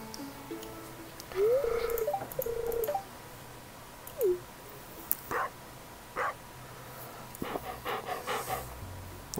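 A stray dog in the video game Stardew Valley pants and gives a few short barks, while brief electronic game chimes sound early on over quiet background ambience.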